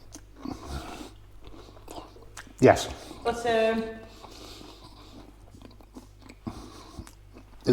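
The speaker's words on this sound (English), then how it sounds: "It's very crunchy, like it's supposed to be." Crunchy chocolate concrete, a hard old-fashioned school dessert, bitten and chewed up close in a short burst of crunching, with a voice speaking just before.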